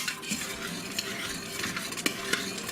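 A spoon stirs seasoned ingredients for an Instant Pot potato salad in a bowl, soft scraping and wet mixing sounds with occasional light clinks, close and continuous.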